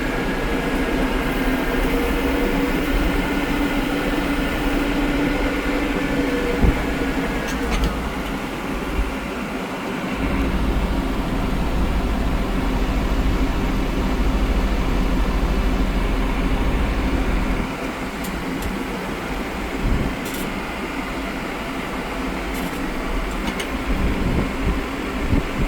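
An overheating tractor's engine runs at low RPM, a continuous loud low rumble with steady mechanical drone throughout, heard alone without talking.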